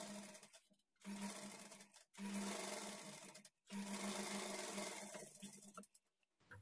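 Sewing machine stitching a lined blouse in three bursts of steady whirring separated by short pauses, fairly close and alone without talk.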